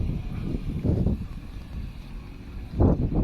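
Low, gusty wind buffets the microphone in uneven rumbling bursts, strongest near the start and end.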